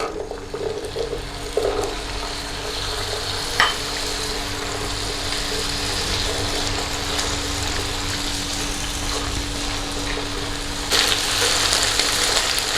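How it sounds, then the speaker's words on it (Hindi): Cauliflower and potato pieces shallow frying in oil, a loud steady sizzle with occasional stirring scrapes and a brief burst of spattering near the end, no talking. "ये हम शैलो फ्राई कर रहे हैं, डीप फ्राई नहीं कर रहे हैं"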